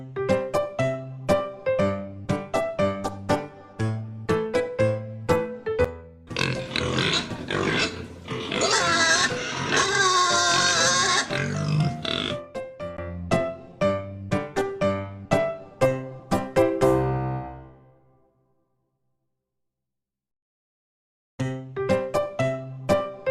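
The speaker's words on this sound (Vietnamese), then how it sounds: "Con heo. Pig, Con heo. pig." A pig grunts and oinks in a close, busy run of snorts and squeals that stops suddenly for a few seconds of silence before the grunting starts again.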